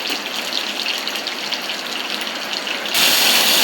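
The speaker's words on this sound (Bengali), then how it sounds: "বাইরে বৃষ্টি হচ্ছে খুব জোরে জোরে।" Heavy rain pours outside, a steady dense roar that holds even throughout and swells noticeably louder near the end, with no voices.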